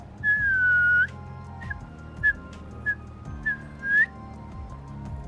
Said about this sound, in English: That was a whistle, was it?